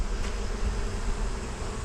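Bees buzz steadily around a box during a bee rescue, a close, continuous insect hum with no talking.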